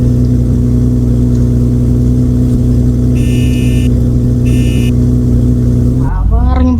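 Loud, steady humming engine of a Toyota car in the Roblox game Driving Empire, a sustained droning tone with a couple of short electronic bursts partway through and a voice starting at the very end.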